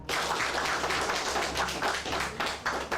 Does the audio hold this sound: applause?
yes